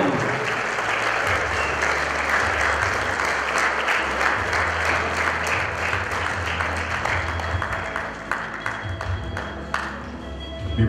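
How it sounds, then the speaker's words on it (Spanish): Loud, sustained applause from the guests at a quinceañera party welcomes the parents. It is a dense wash of clapping that continues for the whole clip with no speech over it. "¡Los aplausos fuertes, por favor!"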